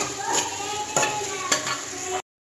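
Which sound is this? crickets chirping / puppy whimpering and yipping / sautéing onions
sautéing onions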